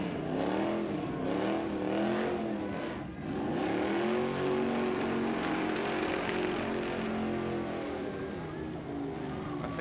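A car doing a burnout at a Summernats burnout elimination, spinning on the rim: a loud, sustained engine roar that rises and falls in pitch as it revs, with gritty tyre-scrub noise and faint crowd noise underneath.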